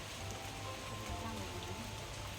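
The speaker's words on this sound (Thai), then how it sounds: "ฝนตกนะ" Steady rain falling outdoors in Thailand as a storm moves in, a soft continuous hiss with faint speech in the background.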